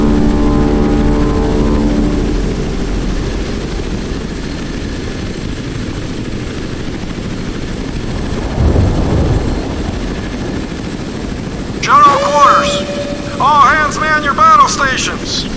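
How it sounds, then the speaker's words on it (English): A helicopter lifts off in the naval combat game Modern Warships, a loud sustained rotor and engine roar with a swelling whoosh midway, then chirpy electronic radio or voice sounds near the end. "Helicopter taking off"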